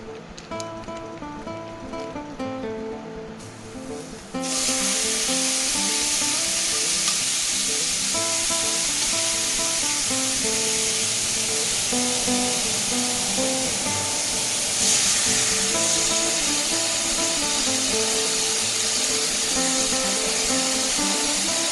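Marinated taco meat sizzles loudly in a hot pan, a steady dense hiss that jumps up sharply a few seconds in as the meat hits the oil and then holds level throughout, with faint background music underneath.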